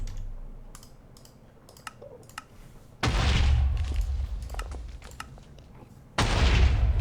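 Explosions in the Minecraft modpack Modern Skyblock 3: two sudden loud booming blasts, each a broad roaring burst that lingers and decays, following a stretch of quieter clicking and keyboard-like taps.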